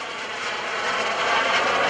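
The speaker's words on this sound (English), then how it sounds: "this is the type of airplane that was used in the movie Octopussy" An FLS Microjet, a small jet airplane, flies at the 2015 Greenwood Lake Airshow during an aileron roll; its engine roar holds steady and swells slightly louder as it passes.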